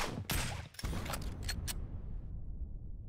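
A nuke going off in a multiplayer shooter video game: bursts of crackling blasts, then a long low rumble that slowly fades into quiet.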